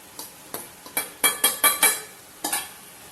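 Poha being added to a sizzling tempering in a pan and stirred: a fizzing sizzle under a series of sharp spoon scrapes and taps, about seven quick strokes, close and clear, without talk.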